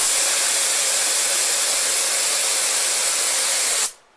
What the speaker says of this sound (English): Spray it long enough that you know it's going to drip.